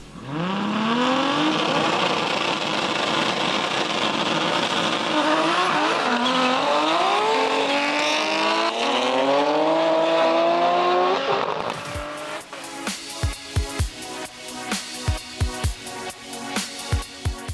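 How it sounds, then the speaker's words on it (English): Nissan Skyline GT-R R32 and R34 race each other at a GT-R festival in New Zealand, engines wailing and rising through the gears, loud and close, before the sound gives way to sharp intermittent knocks and clatter. "The day ended with a grudge match between James's R32 and Faisal's R34 GTR"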